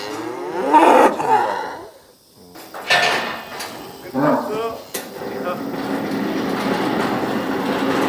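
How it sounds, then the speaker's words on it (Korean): Cattle on a Korean farm during weaning, with a cow and her calf calling back and forth: several loud, drawn-out moos in a row, close by, over a steady low rumble of background noise. "엄마도 울고 송아지도 울고"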